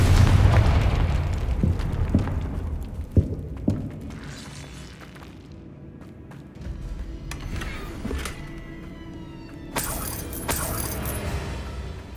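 A Confringo blasting curse from Hogwarts Legacy goes off with a loud, heavy boom at the start. A few sharp pops follow, along with a rumbling tail, and a bright burst comes later. All of it plays without any talk.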